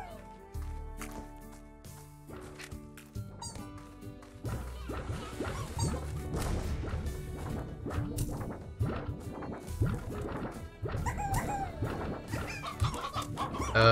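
Hens cluck repeatedly in the video game Slime Rancher, where a painted hen appears, with short clucks scattered over steady background game music.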